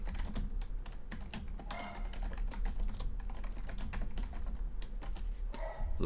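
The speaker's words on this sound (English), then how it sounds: "I'm typing a question real quick" Fast, continuous clatter of keys being typed on a nearby computer keyboard, a dense run of crisp clicks that keeps going for several seconds.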